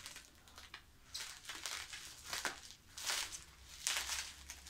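Plastic wrapping on a package of manga volumes being cut open with scissors, a series of close, loud crinkling and rustling bursts with brief cutting crackles and no talk.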